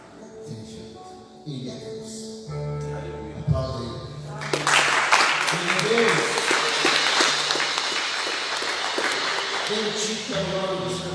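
A church congregation at a Sunday service breaks into sustained, loud applause for God after a preacher's spoken lines, the clapping swelling and holding over music and voice.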